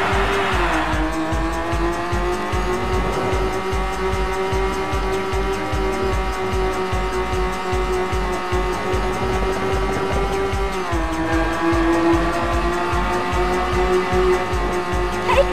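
Race cars in the PS1 game Rage Racer, a loud continuous engine whine rising in pitch with gear shifts at about one and eleven seconds, tire squeal mixed in, close and unbroken.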